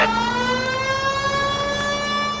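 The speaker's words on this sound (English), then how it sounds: "At least switch the siren on." An emergency vehicle siren sounding loud and close, a steady sustained wail with strong tonal harmonics holding throughout.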